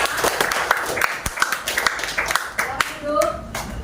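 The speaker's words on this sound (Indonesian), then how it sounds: "Tepuk tangan untuk sekali lagi untuk Devita." A classroom group claps for a student after a presentation, a short burst of scattered handclaps with voices talking over and around it.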